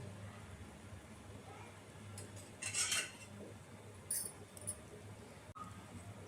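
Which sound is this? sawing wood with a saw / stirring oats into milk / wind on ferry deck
stirring oats into milk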